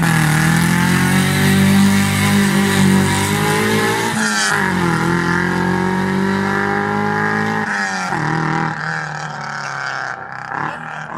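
A project car launches hard with one wheel spinning and no differential, its engine roaring loudly and close throughout, with a brief dip and a renewed surge partway as revs rise and fall.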